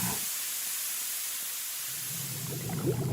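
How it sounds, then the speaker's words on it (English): Hot food sizzling in an advertisement, a steady broadband hiss and crackle that stays loud and even throughout, with a brief low rise near the end and no voices. "Sizzling."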